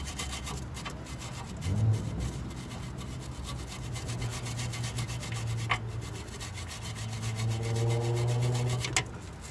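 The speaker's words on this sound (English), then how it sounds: "start to use a wire brush like this and remove all the" A wire brush scrubs rust off car front suspension parts near a strut and sway bar link, a continuous close rasping scrape with short pauses and changes in stroke.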